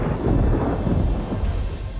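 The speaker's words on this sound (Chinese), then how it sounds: "这又是哪里来的雷电？" Low rolling thunder rumbles continuously, loud and close, through a stormy scene in a Song-dynasty period drama, with no voices heard.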